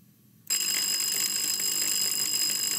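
A quiz contestant's buzzer sounds at a school science quiz, a sudden loud, sustained electronic ring that starts abruptly after near silence and holds steady to the end.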